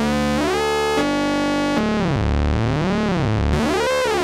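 A Novation Peak synthesizer plays an oscillator sync tone: bright, buzzy, harmonically rich notes whose overtones sweep up and down in repeated arcs, loud and upfront with no talking.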